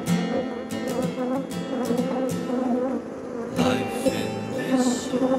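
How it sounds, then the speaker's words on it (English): Angry honey bees buzz loudly and steadily close by during a honey extraction, a dense droning swarm with a voice briefly heard under it. "That's a lot of angry bees."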